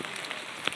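Monsoon rain falls in a city, a dense, even hiss of drops on surfaces with one brief sharper patter near the end, moderately quiet and without speech.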